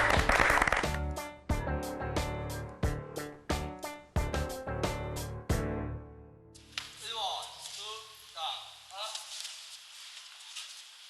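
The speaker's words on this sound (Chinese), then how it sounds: "我们鼓掌通过" A class of students claps together in a quick, ragged burst of sharp hand claps over the first few seconds, then stops as voices and background music take over.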